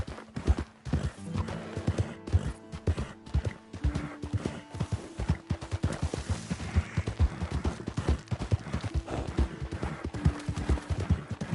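Rapid, loud clip-clop of galloping horse hooves runs throughout in Red Dead Redemption 2, with a horse whinnying over the rhythm; a game soundtrack hums underneath.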